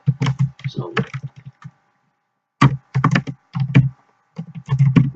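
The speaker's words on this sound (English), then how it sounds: "and then we would type whatever" Computer keyboard typing while entering programming code, brisk clusters of close key clicks in bursts separated by a short pause, with speech between the bursts.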